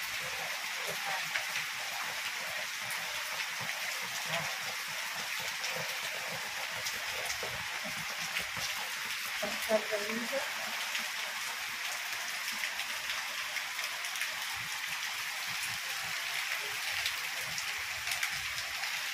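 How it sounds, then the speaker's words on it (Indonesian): Rain falls steadily outside a house in Ciamis, a soft continuous hiss of drops on surfaces, faint and even throughout with no voices. "Hujan teman-teman."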